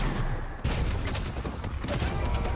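Barrage gunfire sweeping across a fight in the video game Deadlock during a tournament match, a dense, continuous roar of rapid shots and blasts filling the whole clip with little break.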